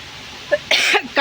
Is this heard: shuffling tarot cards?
no